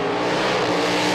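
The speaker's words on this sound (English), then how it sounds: "goes for the burnout" A race car with a large rear aero deck and big slick tyres revs hard for a burnout at a 1999 super series meeting, a loud, continuous engine roar close by with no break.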